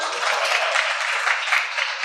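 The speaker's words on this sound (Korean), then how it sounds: "지금 박수." Audience applause at a technology keynote, a dense crackle of many hands clapping steadily at moderate distance for the whole stretch, slightly pulsing but unbroken.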